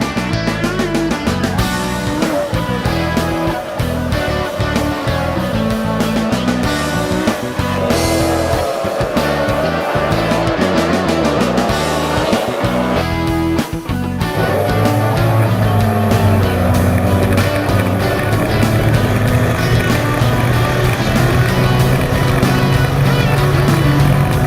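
Loud F1 powerboat racing engine at full throttle, the Seebold Sports NGK F1 boat running hard through the whole stretch with a sustained high-revving roar that shifts pitch partway through, plus a steady low drone.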